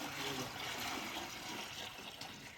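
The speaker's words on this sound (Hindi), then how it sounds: "तो पहले डाल लेते हैं पानी" Water poured into a bucket while mixing a neem, cow-dung and cow-urine farm preparation, a steady close splashing rush that fills the whole stretch without pause.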